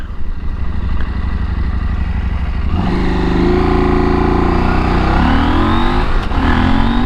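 A 2022 KTM 890 Adventure R motorcycle accelerates hard, engine drone climbing in pitch through gears, loud and close with wind noise, no talk.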